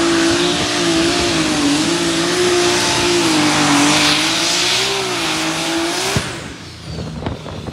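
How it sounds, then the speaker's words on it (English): A Light Superstock pulling tractor engine revs hard and steady on a test run at Summit Motorsports Park, a loud sustained droning roar that drops off abruptly near the end, with no voices. "here's Haney's Light Superstock first run up here"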